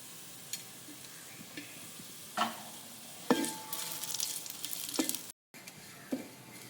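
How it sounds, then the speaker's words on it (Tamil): Tamarind and garlic fry in a pan for homemade idli podi, giving a soft, steady crackle with a few scraping stirs and a brief louder burst of sizzling, with no one talking. "இந்த கொஞ்சம் புளியும் சேர்த்து ஃப்ரை பண்ணி எடுத்துக்கலாம்"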